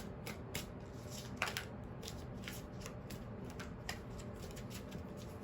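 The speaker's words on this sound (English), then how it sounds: "I do pre-shuffle a lot just so I can really mix up the cards" Two decks of tarot cards, stacked together, are shuffled continuously in soft, steady riffling bursts with occasional sharper snaps, quiet and close with no talking.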